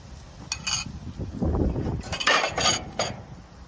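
Bagoong shrimp paste and egg get mixed in a bowl outdoors, with scraping, clinking utensil strokes against the dish coming in quick bursts, close and fairly loud.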